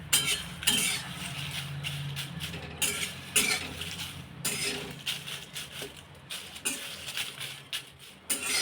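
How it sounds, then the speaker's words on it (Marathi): Whole spices, including torn bay leaves, stirred and dry-roasted in a pan over medium heat for Malvani masala, with steady scraping and rustling, occasional metallic clinks of the spoon against the pan, and a faint sizzle throughout. "आपल्याला हे मसाले मध्यम आचेवरच भाजून घ्यायचे आहे"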